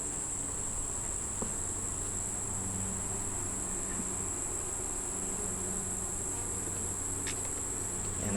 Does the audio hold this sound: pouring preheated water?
no